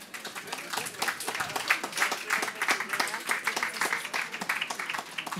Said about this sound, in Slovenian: Vi pa mi namenite en aplavz.